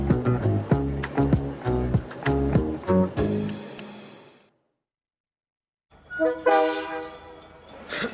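Passenger train rolling out from Toronto toward Ottawa, with loud rhythmic clanks and horn-like tones, then a fading sustained tone, a silent gap, and a renewed horn blast.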